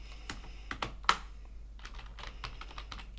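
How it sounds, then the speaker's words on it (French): Rapid typing on a computer keyboard with an American layout, a string of sharp clicks in uneven bursts with one louder keystroke early on, close and clear over a low steady hum, no talking. "On va essayer au clavier."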